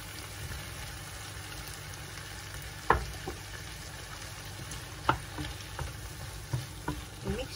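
Seafood being stirred in a frying pan sizzles steadily and loudly throughout, with occasional scraping knocks of the utensil against the pan.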